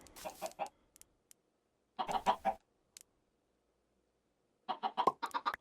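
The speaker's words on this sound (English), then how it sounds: "We're gonna breed the chickens." Chickens in a video game cluck in short bursts during breeding, several clustered calls with quiet gaps between, fairly close and clear.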